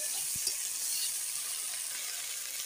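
Beans, potatoes and green chillies fry in a pan with a black cumin tempering and are stirred. A soft, even sizzle hisses throughout, with a brief clatter near the start.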